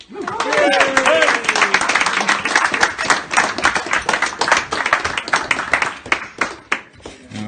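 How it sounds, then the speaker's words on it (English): Applause for Dr. Kieran McMahon at a book launch in Hodges Figgis, Dublin, a small crowd's close, distinct sharp claps, with voices calling out at the start, tapering toward the end. "Ladies and gentlemen, please give a big round of applause for Dr. Kieran McMahon."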